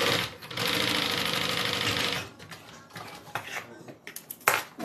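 A sewing machine stitches vinyl for a zip-around wallet, running in a steady continuous burst, then a few shorter uneven runs and clicks.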